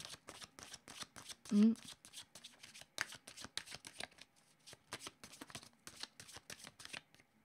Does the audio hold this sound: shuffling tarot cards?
yes